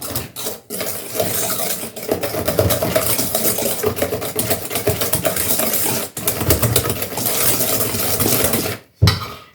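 500 g of mascarpone being mixed for tiramisu, a steady loud mechanical whirring of a mixer with clattering against the bowl, close and continuous, briefly stopping near the end.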